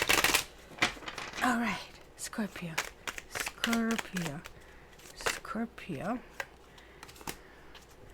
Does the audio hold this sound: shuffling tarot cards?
yes